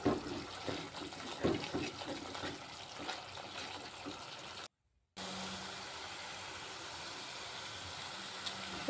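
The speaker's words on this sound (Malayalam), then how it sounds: "തേങ്ങാപ്പാൽ ഒഴിക്കാം" Coconut milk pours steadily into a pot of fish curry with kudampuli and salt, a continuous close watery hiss and trickle with a brief cut of silence midway.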